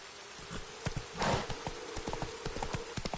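Roach, a horse in The Witcher 3, gallops with steady hoof clip-clops close by, a brief louder burst partway through, with faint buzzing insects in the background.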